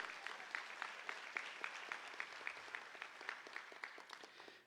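Applause from an audience at a closing ceremony for a Kichwa-language school in Ecuador, with steady rhythmic clapping sustained throughout, fairly even and moderately distant, fading slightly at the end.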